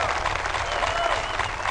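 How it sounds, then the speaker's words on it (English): A crowd claps in continuous dense applause, steady and fairly loud throughout with no pauses. "Applause, please."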